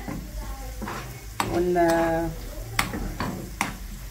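Coriander frying in a pan for a lentil dish, a low sizzle with a few sharp stirring knocks while a voice talks over it.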